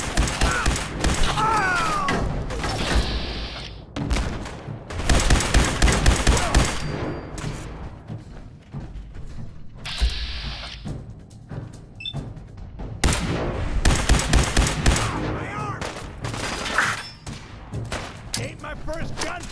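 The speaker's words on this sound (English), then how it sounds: "Ain't my first gunfire!" Video game gunfire in Fallout 4, with loud overlapping bursts of rifle and automatic fire in rapid volleys separated by short lulls, and voices shouting between the shots.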